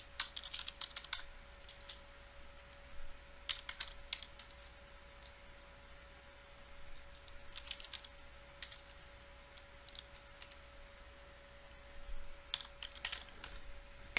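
Keys clatter on a computer keyboard in quiet, scattered bursts of typing separated by pauses, with a faint steady electrical hum underneath.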